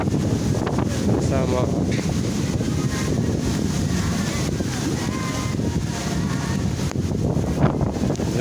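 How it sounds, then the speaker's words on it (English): Strong gusts of wind batter the microphone on a riverside walk, a loud, continuous rumbling buffet that surges and eases, with speech heard faintly beneath it. "yeah, it's gusting so hard."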